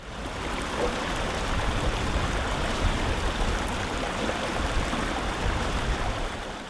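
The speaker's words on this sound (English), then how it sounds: "The harvested grains are washed thoroughly in the stream to remove any impurities." Harvested grains are washed in a mountain stream in Zanskar, with steady rushing water filling the sound evenly and closely throughout, no voices.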